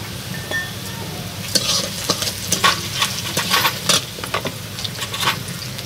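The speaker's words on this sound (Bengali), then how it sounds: "পেঁয়াজটা আধ ভাজা হয়ে গেছে, আমি চিনিটা দিয়ে দেবো।" Half-fried onions sizzle in a pan with a spoonful of sugar added, a steady frying hiss broken by repeated scraping and clattering stirs, close and alone with no talk.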